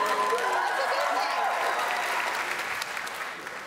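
Studio audience at a live X Factor UK show applauds after a performance, a steady and loud burst of crowd clapping that slowly fades, with voices mixed in.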